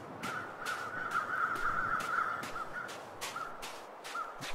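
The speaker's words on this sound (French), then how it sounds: "Des corbeaux." Crows caw repeatedly in the wintry wilderness of The Long Dark, harsh calls rising over a constant windy background hiss, loud and fairly close, with no voices.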